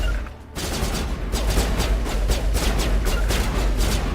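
Rapid volley of gunfire in the video game Mass Effect: Legendary Edition, the player holding a sniper rifle; sharp repeated shots begin after a brief quiet start and continue steadily, loud and dense, with no talking.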